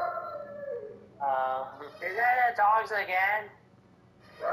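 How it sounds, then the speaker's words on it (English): Several dogs howl indoors, long wavering cries rising and falling in overlapping bursts, fairly close and loud, with a person talking over them during a Middle-earth: Shadow of Mordor gaming session. "Yeah, it's still the dogs."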